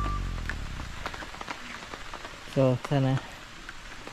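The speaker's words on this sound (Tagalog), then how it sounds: "Umuulan na siya guys." Light rain patters in the background with a soft constant hiss while a person speaks over it.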